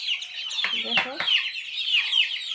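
Tiger chickens, recently ill and being given medicine, cluck in a run of soft, close calls alongside higher chirping, with a brief spoken word from a person.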